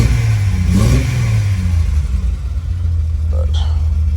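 Car engine with a slight misfire revving loudly up close, rising then settling into an uneven rumbling idle with occasional irregular beats.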